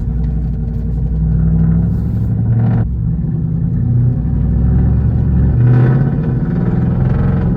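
A loud Jeep SRT engine rumbles and revs close by, a heavy, continuous roar that swells and dips across the whole stretch with no talk over it.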